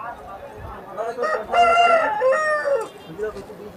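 Nearby, a rooster at Balrampur market, West Bengal, lets out a full crow that rises and then trails off, with faint background noise before and after.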